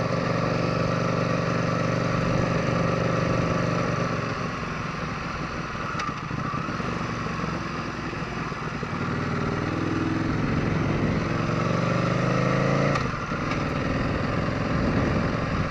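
A motorcycle engine hums steadily throughout while riding near an island coastline, a continuous low drone from close by with slight shifts in pitch and no voices.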